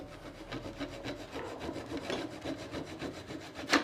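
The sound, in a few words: cutting off excess wood diagonally, marquetry dovetail joint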